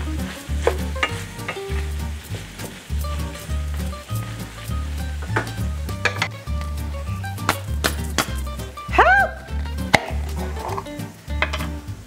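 Chopped garlic sizzling in a pan while being stirred, with scraping strokes and bursts of crackle, close and lively, plus a few utensil knocks and clinks throughout.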